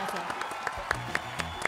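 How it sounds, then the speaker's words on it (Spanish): A TV talk-show studio audience gives brief, fairly faint applause, with scattered claps and crowd noise under voices. "un aplauso para ella,"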